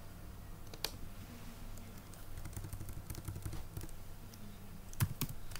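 Keys clatter on a computer keyboard as someone types a short word into a form, a quick irregular run of clicks with a steady low hum beneath, fairly close and moderately loud.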